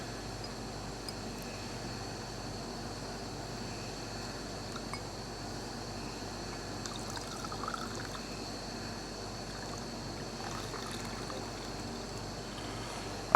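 Theakston's Old Peculier ale pouring from an Oxybar keg into a glass: a continuous soft trickling and splashing of liquid with faint clinks, steady throughout and close.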